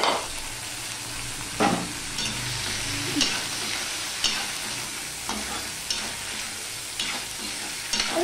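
Tomato and ginger paste stir-fried in a pan, a steady close sizzle broken by periodic scraping stirs of the spatula, with no voices.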